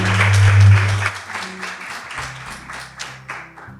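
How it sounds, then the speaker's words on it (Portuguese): Applause from an audience at a Women's Day gala in Lajes, a dense patter of clapping that swells early and then thins out, with a low hum running beneath. "Uma enorme salva de palmas."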